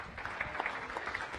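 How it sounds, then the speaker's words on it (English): Brief audience applause closing a science café talk about glowing insects: a steady wash of many hands clapping, moderately loud, lasting just over a second. "Let's give him one more round of applause."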